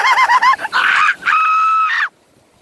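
A voice imitating a rooster crow after laughing: short honking, clucking bursts leading into a long sustained crowing call that cuts off abruptly, close and loud.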